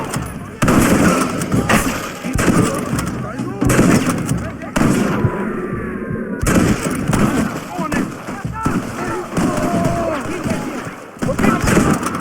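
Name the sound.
gunfire in Red Dead Redemption video game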